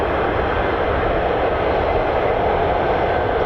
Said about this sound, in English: Pretty sure I can hear F-35s to my right.